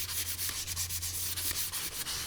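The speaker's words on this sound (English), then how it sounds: "I've just got some 600 grit sandpaper" Steady back-and-forth rubbing of 600-grit sandpaper on a wooden guitar by hand, a soft rhythmic hiss with regular strokes, close and fairly quiet.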